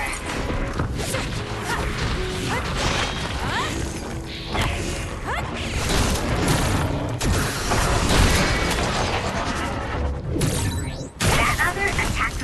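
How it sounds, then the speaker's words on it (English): Explosions in the Scarlet Nexus video game go off amid dense combat, with crashes, booms and whooshes layered over continuous loud game noise and character voices. "That other attacked with explosions."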